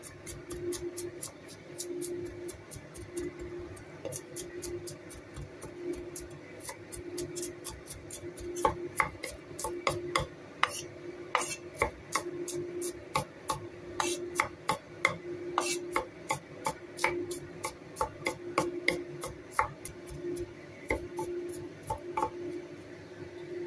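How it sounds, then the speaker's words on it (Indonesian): Goat meat is chopped on a board with a knife, first as a quiet rubbing and scraping, then as a long run of sharp, rapid, fairly evenly spaced chops up close, with no voices. "Kemudian kita cincang."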